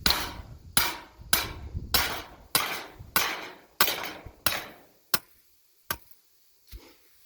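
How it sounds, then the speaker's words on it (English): A hammer drives a short metal ground rod into the ground for an electric fence, with about ten sharp, loud strikes at a steady rhythm that grow thinner and more spaced out toward the end. "So we will use the hammer."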